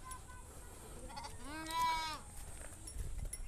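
A Garol sheep on a farm in Bogura lets out one wavering, nasal bleat that rises and trails off, heard nearby over a low, rumbling farmyard background.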